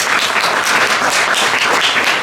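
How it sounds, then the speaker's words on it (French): A lively audience applauds at a comedy or entertainment show, with dense, continuous clapping close by and steady throughout. "On applaudit tous Philippe."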